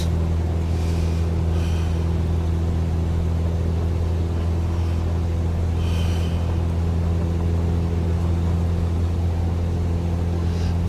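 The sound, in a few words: bush plane taking off from airport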